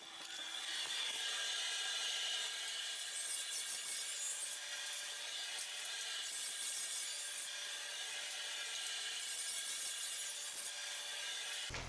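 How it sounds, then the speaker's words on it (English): A workshop dust collector runs while wood blanks for custom trim are beveled, giving a steady bright hiss and rasping machine roar at moderate, constant level throughout. "I'll fire up the dust processor, put the bevel on all these blanks"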